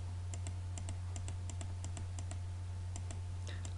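Keys tap out an AutoCAD command on a computer keyboard in a quick, uneven run of close, crisp clicks over a steady low electrical hum.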